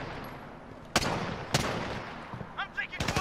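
Gunfire in Call of Duty Modern Warfare on the Docks map, a few sharp cracks spaced about half a second apart followed by a quicker burst, loud and near, with faint chatter underneath.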